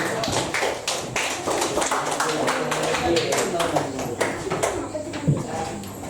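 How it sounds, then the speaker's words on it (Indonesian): Students in a classroom clap for a group that has just presented, with dense, steady hand clapping lasting throughout, mixed with some voices and background chatter. "Berikan tepuk tangan untuk kelompok 1."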